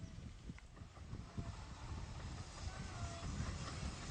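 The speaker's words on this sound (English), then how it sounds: "we get a good view of Hercules running in with the upbound train for Hythe" Locomotive Hercules runs in with the upbound train for Hythe, a steady rumbling roll with faint squeals and scattered clunks that holds at an even level throughout, with no voices.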